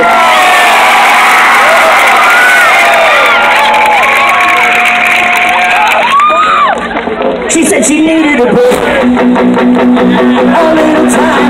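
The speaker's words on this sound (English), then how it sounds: "big round of applause for me for the greatest intro to the song I've heard" Concert crowd at Warped Tour 2017 in Nashville, Tennessee, cheering and whooping loudly with shouts and applause, a dense roar that shifts as singing voices and music cut through later on.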